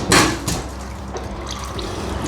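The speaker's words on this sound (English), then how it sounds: "Much more oil comes out." Engine oil draining from a Honda CRF300L motorcycle, heard as a continuous close trickle and splash of liquid into a container, with a louder gush at the start.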